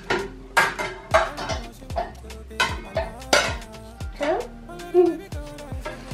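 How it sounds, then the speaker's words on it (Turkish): Dishes, pots and cutlery clatter and clink repeatedly as they are washed at a kitchen sink, with close, uneven knocks and scrapes in a busy rhythm, water running, and voices now and then. "bulaşıkları halletmek istedi"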